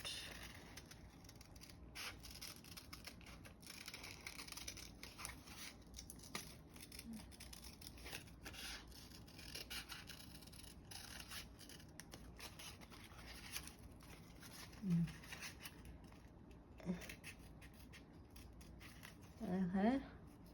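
Scissors snipping paper as a topper is cut out: faint, scattered cuts and paper rustles under a quiet room hiss, with a few louder snips near the end.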